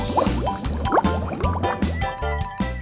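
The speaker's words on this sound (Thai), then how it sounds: "จากนั้นก็ล้างด้วยน้ำเย็น" Water splashes and pours over a toy car at a pretend car wash, a steady wet rinse with drips and gurgles, close and fairly loud over a bright repeating toy-like music loop.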